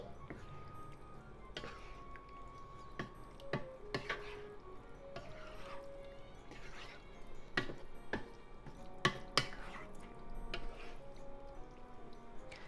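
Mapo tofu with pork being gently stirred in a pan with the heat off, soft scraping and occasional utensil clinks against the pan, quiet and close, with light talk in places.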